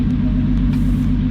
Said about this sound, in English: we start a car